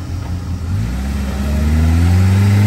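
An off-road vehicle pulls away on a rough Caucasus mountain track, its engine revving up loud and close in a rising, steady growl with no voices.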